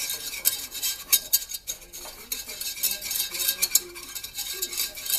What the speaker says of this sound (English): So you just want to kind of whisk that in for about 30 seconds and make sure you stir it constantly